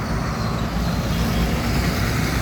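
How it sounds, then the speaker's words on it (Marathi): Evening traffic jam near a bus stop at Gay Vasru Chowk, a dense, continuous roar of car and truck engines idling and crawling close by. "गाय वासरू चौकात जर एवढं ट्रॅफिक जाम होत असेल ते पण संध्याकाळी"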